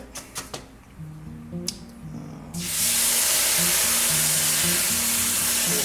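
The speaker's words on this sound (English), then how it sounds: "So I'm going to put my 2 measures of water" Water poured into shrimp fried rice in a hot pan bursts into a loud, sustained sizzle and hiss of steam, following a few clinks and quieter cooking sounds, heard close.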